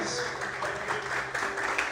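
A church congregation claps and praises God loudly, a dense, sustained wash of applause mixed with voices calling out throughout.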